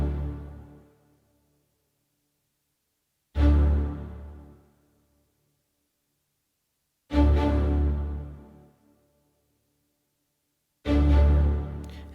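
An orchestral string section plays short, accented chords, three separate loud hits spaced a few seconds apart, each ringing out and decaying into silence.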